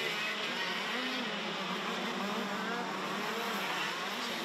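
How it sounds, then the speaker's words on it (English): KZ2 shifter karts race around a track with a continuous buzzing, high-pitched engine whine blended into a wide, fairly distant roar, steady throughout with no clear individual pass-bys. "these KZ2 shifter carts. They are bringing them around for another tour"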